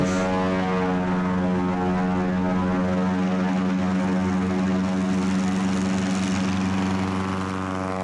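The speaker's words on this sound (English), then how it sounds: "This is a takeoff from a short gravel bar in Stilcomish." Small propeller airplane at full power taking off from a short gravel bar near a lake in cold weather, a loud steady engine drone with strong harmonic hum that holds constant throughout, no voices.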